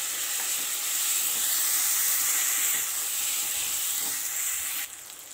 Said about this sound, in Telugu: ఇందులో 1 టీ స్పూన్ పసుపు వేసుకొని ఫ్రై చేసుకోండి